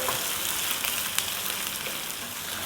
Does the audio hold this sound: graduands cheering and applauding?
no